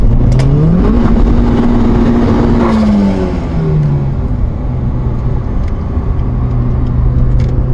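An Opel Calibra with 440 horsepower and a BMW M5 F90 accelerate hard in a race, their engines revving loudly and climbing in pitch up close, then settling into a steady, sustained roar.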